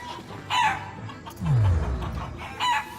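Chickens in the video game Shenmue III cluck in three short bursts, with a lower squawk in the middle, each burst loud and close.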